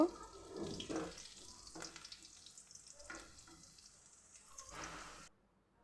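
Spices fry and sizzle in a small amount of oil in a pan, with stirring scrapes at intervals, close and fairly quiet, before the sound cuts off.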